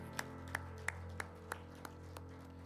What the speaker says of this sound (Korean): 우리 하나님께 모든 영광의 박수 올리도록 하겠습니다.